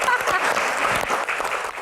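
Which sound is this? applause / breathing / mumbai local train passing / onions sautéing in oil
applause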